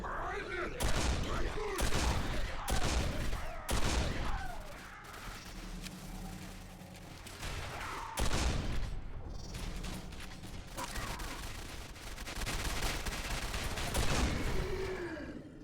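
Machine-gun bursts ring out in the shooter Quake 4 on Xbox 360. Sharp volleys come in rapid clusters, mixed with game effects and grunts, while someone talks over the action.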